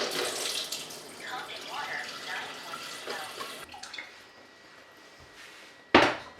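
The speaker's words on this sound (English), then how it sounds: "we're going to be filling the saucepan enough to cover the egg" Kangen alkaline water at pH 9 runs into a saucepan to cover an egg, a soft steady splashing trickle with faint clinks, followed by a brief louder splash near the end.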